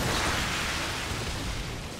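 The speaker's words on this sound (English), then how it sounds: "Can't aim, so I just use explosions." Explosions in the video game Orcs Must Die! form a continuous loud, dense roar of booms and crackling debris that fills the whole stretch without pause, with no speech.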